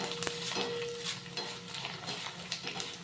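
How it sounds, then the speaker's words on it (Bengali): Raw rice frying in hot oil, a close sizzle with scattered clicks and scraping as it is stirred in the pan, with irregular stirring bursts and no talk. "এবার একটুখানি চাল দিয়ে দেখুন ভাজছি আমি"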